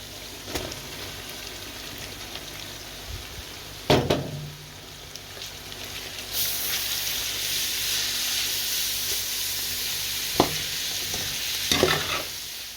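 Carrots tumble into a pan of onions frying in oil. A soft background sizzle jumps into a louder, sustained hiss, with a few stirring clatters before and after.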